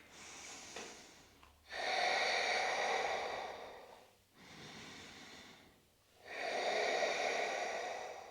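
Deep breaths during a yoga session, slow alternating inhales and exhales, two long airy breath cycles, close and soft with no talk.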